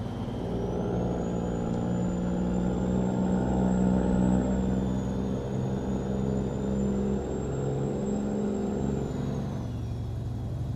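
A Kenworth Legacy truck engine running the Creech Bomb engine pack in American Truck Simulator drones steadily and loudly throughout. A faint high whine rises and falls above the deep rumble, with no talk.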